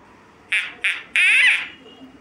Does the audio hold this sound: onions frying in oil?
no